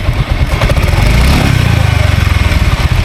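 Motorcycle engine running close by, a loud rapid chugging idle with steady pulsing and some mechanical clatter, holding an even rhythm throughout.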